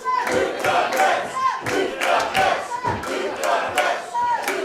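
A wrestling crowd boos James Mason during his match with Luke Douglas, a loud, steady wall of jeering voices that rises and falls in repeated surges with sharp shouts cutting through.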